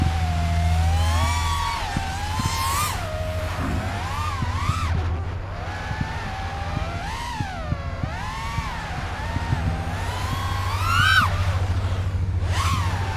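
Tiny 1203 brushless motors on a Happymodel Larva-X HD whoop drone with two-blade props whine at minimum throttle, a close, rising and falling high-pitched buzz that wavers and never drops to silence.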